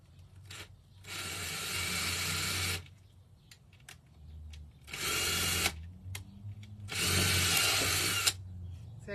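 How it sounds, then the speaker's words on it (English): A power drill whirs through old, brittle fence wood in three sustained bursts, each lasting a second or more, with brief pauses and small handling noises between them, close and loud. "I think we'll go with a drill hole there and a drill hole there."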